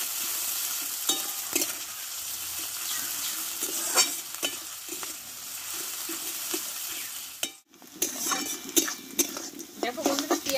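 Onions frying in a pan while being stirred, for a drumstick and egg curry, with a steady close sizzle and repeated scraping strokes of a spoon against the pan, broken by a brief pause before the stirring resumes.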